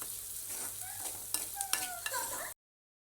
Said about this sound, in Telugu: సన్నగా కట్ చేసుకున్న ఉల్లిపాయలు అయితే వేసుకున్నాను.